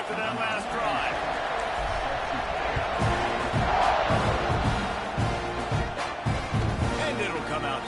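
A football stadium crowd roars steadily through a kickoff, a dense, continuous wall of cheering and noise at constant loudness, with no single voice standing out.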